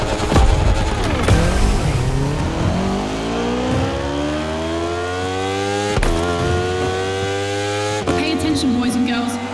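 Racing motorcycle engines in The Crew Motorfest game scream and rev up through rising gear sweeps, with sharp upshifts and a steady, loud, close engine whine. Someone talks over the engines.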